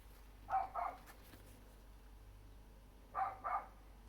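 A dog barks twice, then twice again a few seconds later, distant and muffled against a quiet background hum.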